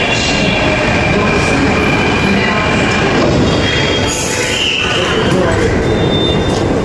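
A train runs at Ghatkopar metro station in Mumbai, loud and close, with steady rumbling, rattling wheels and a squeal, while someone talks over it.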